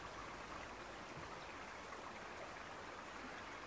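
A fast tidal river current rushing between bridge piers on the Wye at high tide, a steady broadband roar of flowing water, even and continuous throughout with no talk.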